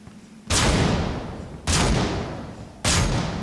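Three heavy shotgun blasts from Project Contingency, each a loud, sharp boom with a long decaying tail, spaced roughly a second apart, with no talking.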